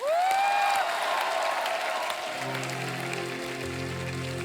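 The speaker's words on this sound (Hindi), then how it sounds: "आप सबकी जोरदार तालियों के बीच प्लीज वेलकम" Studio audience applause welcoming a singer onto a TV comedy show stage, a steady wash of clapping throughout, with a rising whistle-like tone at the start and sustained music notes entering in the second half.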